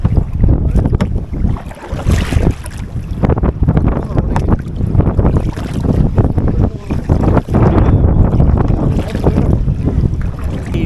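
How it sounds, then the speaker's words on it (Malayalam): Strong wind roars across the microphone out on open water at Katherine, Northern Territory, Australia, gusting heavily throughout with a boat's rumble beneath. "നല്ല കാറ്റുണ്ട്"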